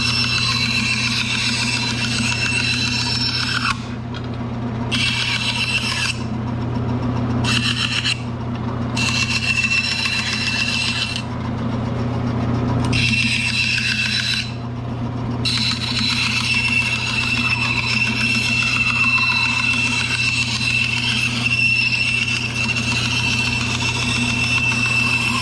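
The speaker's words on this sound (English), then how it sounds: "Router's a little too aggressive. It wants to throw the whole workpiece across the room" A router cuts a holster workpiece with a loud, continuous motor whine, broken by several short gaps where the bit grinds and rasps through the material before the steady cutting resumes.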